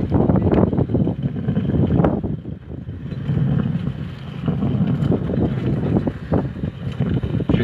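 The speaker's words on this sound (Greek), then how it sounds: "Φυσάει αέρα στο λιμάνι" Wind blows across the harbour at Alexandroupoli, buffeting the microphone in loud, rumbling gusts that rise and ease with faint boat-like hum beneath.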